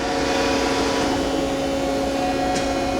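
FADAL 3016L vertical machining center spindle turning at 500 RPM in a shop, a steady continuous whine and hum with machine tonal lines, held evenly throughout with no talking.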